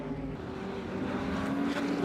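A Ferrari short wheelbase race car goes by at a historic circuit race, its engine a steady broad roar heard at some distance with little change over the moment.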